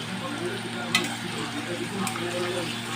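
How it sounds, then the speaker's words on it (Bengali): Paneer pieces coated in chili powder, salt and turmeric fry lightly in oil with a soft, even sizzle and a faint clink or two. No voices are heard. "খুব বেশি ভাজবো না, তবে হালকা করে পনিরগুলোকে আমরা ভেজে নেব।"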